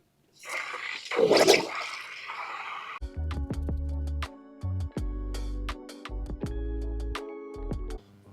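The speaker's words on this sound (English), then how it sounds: "You're going to use the hose and you're going to shoot the water stream directly into the hole." Water from a garden hose is sprayed into a swimming pool skimmer's overflow hole, first as a brief rushing splash, then giving way to a steady, loud gurgling and draining flow with tonal hum and clicks.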